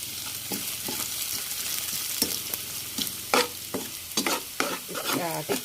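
Garlic fries gently in oil over low heat alongside crisp-fried pork, a soft steady sizzle with repeated metallic scrapes and clinks from a spatula that grow busier toward the end.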